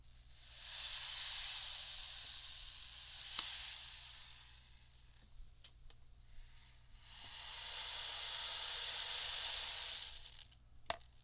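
Two long pattering rushes of many small beads cascading down through a Galton board, separated by a quieter pause with a few faint clicks and taps.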